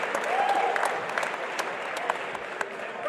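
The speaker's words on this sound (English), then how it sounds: "Big round of applause for them and for Devin Carrier." Crowd applause at an amateur cage fighting event, a steady wash of clapping across the venue with brief whistles and cheers, fairly distant and sustained throughout.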